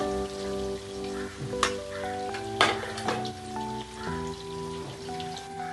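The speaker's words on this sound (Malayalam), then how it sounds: "ഞാൻ ചിക്കനെ വറുത്തെടുക്കാൻ വേണ്ടിയിട്ട് ഞാൻ ഈ ചട്ടിയിലേക്ക് ഇട്ട് കൊടുക്കുകയാണ് കേട്ടോ" Chicken sizzles in sunflower oil in a pan, with light, patter-like popping and a few louder spatters over sustained musical tones.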